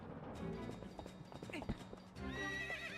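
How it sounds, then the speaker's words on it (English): A horse neighs and whinnies during a horse-taming sequence in the video game Twilight Princess, with hoof clip-clops and game music around it; a loud whinny rises near the end, close and clear. "I thought it was pretty interesting to get a horse taming sequence"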